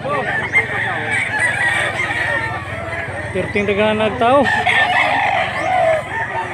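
Roosters crow and cluck at a busy Cebu rooster market, the calls rising and falling over constant close chatter of buyers and sellers haggling.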